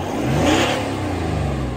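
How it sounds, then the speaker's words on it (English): Single quick rev from a Toyota LC300 running a 3.5-inch stainless DPF-back exhaust, rising sharply and settling into a rumbling idle, heard up close and alone. "He's going to rev it up for me."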